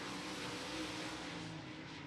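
Open-wheel modified race cars roaring around Golden Mountain Speedway during qualifying, a continuous broad engine drone heard at a distance with no voices over it.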